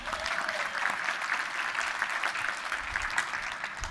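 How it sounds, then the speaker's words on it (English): An audience at a youth changemaker talk gives a brave volunteer a round of applause, an even, fairly soft spread of clapping that holds steady for several seconds without speech. "Round of applause for our brave volunteer."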